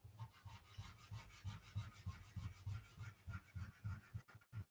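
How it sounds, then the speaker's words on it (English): A finger rubs soft pastel dust into paper in quick, rhythmic back-and-forth strokes, a faint, close scratchy swishing that repeats steadily without any voices. "You actually want to use your finger and rub that in."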